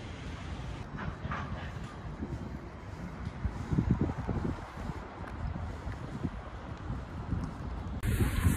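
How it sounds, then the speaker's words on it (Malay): Wind gusting outside Anfield stadium in Liverpool on a cold day, buffeting the microphone in a continuous rough rumble with rustling that swells and eases, growing stronger near the end. "Kadang berangin lah."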